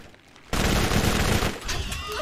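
Dense burst of gunfire in the Borderlands video game, a loud rapid fusillade of shots that erupts suddenly and continues for over a second before easing, with game effects behind it.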